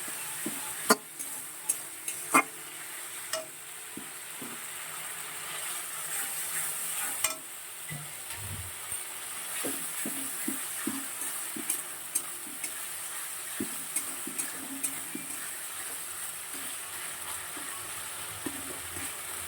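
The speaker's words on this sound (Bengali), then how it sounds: "মশলা ভেজে দিচ্ছি।" Spice paste for a katla fish curry fries in a pan with a constant bright sizzle, broken by occasional clicks and taps of a stirring spoon, close and without talk.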